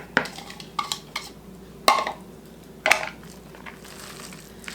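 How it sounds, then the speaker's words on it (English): A utensil stirs shredded cheese into a hashbrown casserole mixture in a bowl, making several sharp scraping clanks against the dish between softer squishy mixing, close and clear with no talking. "I'm going to put my cheese in and stir it around"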